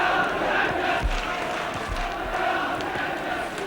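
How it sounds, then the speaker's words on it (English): A football crowd at a 1970/71 Fulham match at Gillingham roars and cheers steadily, a dense, continuous wash of distant voices with a few low thumps. "Delight in the Fulham crowd."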